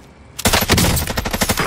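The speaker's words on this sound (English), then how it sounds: "I'm taking fire here." Rapid automatic gunfire from a Call of Duty match with a Bruen MK9 and Milano loadout. After a brief quiet start, loud, dense bursts of shots crackle continuously to the end.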